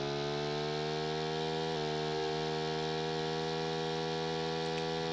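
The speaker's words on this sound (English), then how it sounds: "both motors are up and running" Two model aircraft motors run together with a steady, even electric whine and hum, their pitch stepping up briefly partway through as the throttle rises, loud and close with no talking.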